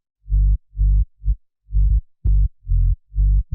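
A deep synthesized sub bass pulsing in short, rounded notes with brief gaps, low and humming, playing alone in a steady rhythmic pattern.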